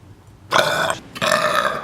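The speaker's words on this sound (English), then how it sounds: "Why are you burping all the damn time?" Two loud, drawn-out burps in close succession, each a raspy, throaty belch lasting about half a second, separated by a short pause, with no talk over them.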